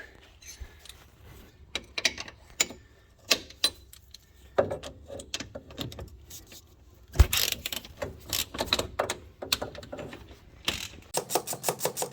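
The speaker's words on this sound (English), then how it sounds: "we've got to undo the caliper carrier bolt, and that means a 12 millimeter socket on the back" A 12 mm socket ratchet undoes the brake caliper carrier bolt on a 2006 BA Ford Falcon's front brakes, producing scattered metallic clicks and clanks that end in a quick run of ratchet clicks, close up and without speech.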